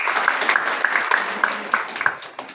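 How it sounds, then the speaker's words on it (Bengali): Audience applause for two people at a university gathering, a steady patter of hand claps with sharper individual claps standing out, fairly close and continuous for a few seconds. "তার এই দুজনের জন্য একটা হাততালি হয়ে যাক।"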